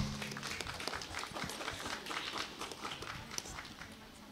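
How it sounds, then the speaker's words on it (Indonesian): An audience claps and cheers for one team at a school quiz contest, a busy burst of applause that stays fairly steady, with some voices mixed in. "Tepuk tangan untuk grup A."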